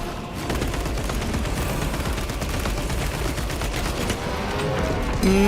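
Sustained gunfire rages in the video game Space Marine 2, a dense continuous barrage of rapid shots and crackling impacts holding loud and steady throughout with a sharper burst near the end.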